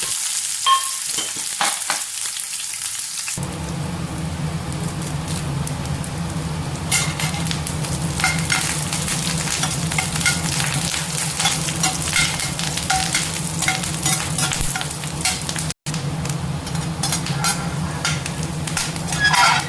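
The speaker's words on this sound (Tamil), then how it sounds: "சின்ன வெங்காயம் கட் பண்ணி வதக்கிக்கலாம்." Chopped shallots fry in a pan with a loud, dense, continuous sizzle that starts abruptly after a few quieter seconds, broken by occasional stirring scrapes and one very short dropout.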